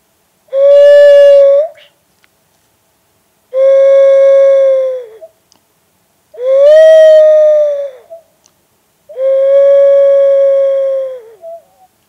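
A nose-blown wind instrument mimicking an owl plays four sustained hooting tones, each lasting about one to two seconds with brief pauses between, loud and clear with no talking.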